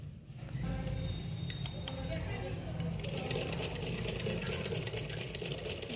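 Electric sewing machine running steadily as it stitches a zip onto trousers, a continuous mid-pitched motor drone with fast ticking needle strokes, close and fairly loud, with a speaking voice over it.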